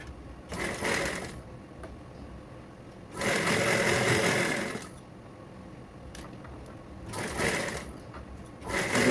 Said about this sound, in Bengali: দুবার সেলাই করে আমি এবারে একটা মাঝখান দিয়ে চাপ সেলাই দিয়ে নেব